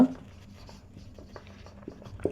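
A teacher writes on a board during an accounting lesson, giving soft scratchy strokes and taps in short bursts over a quiet room.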